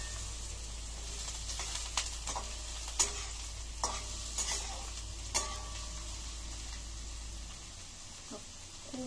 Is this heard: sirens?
no